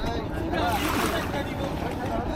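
A boat moves on the river at the white-stone site of Bholaganj, Sylhet, with continuous water wash and wind, as people talk nearby.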